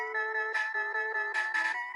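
Phone-call ringtone in a Mega Man video game: a bright, steady electronic melody of repeated tonal beeps in a looping pattern, loud and clear with no talk over it.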